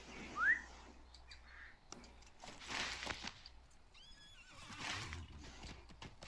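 Horses in the video game Lord of the Rings Online give a sharp whinny, then hooves clop and shuffle with snorts and rustling at close range, with a bird-like whistle mid-way.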